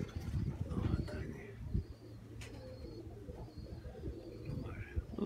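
Pigeons cooing outdoors under a sky holding a flock, with soft low repeated coos and scattered faint chirps beneath a steady rumble of background noise.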